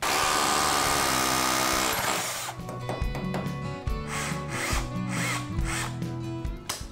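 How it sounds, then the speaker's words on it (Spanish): A power drill bores into a wall during a room makeover, starting with a steady loud whine, then pulsing as the bit bites in, close and harsh with rhythmic surges in pitch. "ahora a taladrar"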